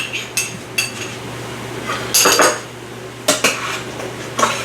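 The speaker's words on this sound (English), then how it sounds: "Give the slurry another little stir and put that through there." A spoon stirs cornstarch slurry in a container while cooking sweet and sour meatballs in an Instant Pot, producing close clinks and scrapes of metal against the vessel in short irregular bursts.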